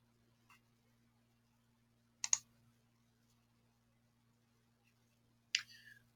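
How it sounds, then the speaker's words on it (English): Computer mouse clicks in a quiet room during drafting work in Inventor software, with two sharp, close clicks separated by a few seconds of near silence and one fainter tick near the start. "And I'll right click."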